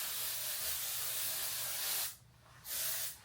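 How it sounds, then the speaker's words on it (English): Moroccan Oil Dry Texture Spray hisses onto hair in a long, steady close-up burst, then stops briefly before a second short spray, with no talking. "you could take like a texturizing spray like this,"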